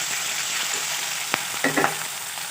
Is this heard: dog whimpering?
no